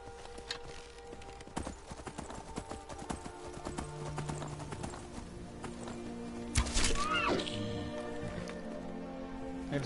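Horse hooves clip-clop at a walking pace in Skyrim, a rhythmic series of soft thuds set among layered game ambience and music, with a brief louder burst partway through.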